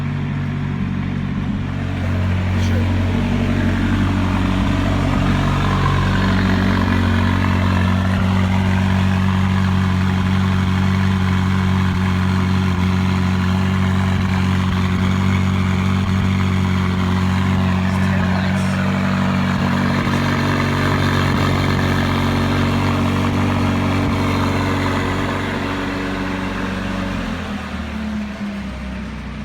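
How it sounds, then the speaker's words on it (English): A McLaren 570S sits idling loudly after a cold start, a steady, close, droning engine note with strong low harmonics holding for half a minute before easing slightly at the end, with no voices. "So what you were hearing was a cold start."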